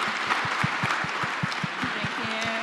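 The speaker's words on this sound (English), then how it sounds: "Another round of applause." An audience at a book reading by Terese Marie Mailhot applauds in steady, close clapping, with a rhythmic low thumping pulse and a brief voice underneath.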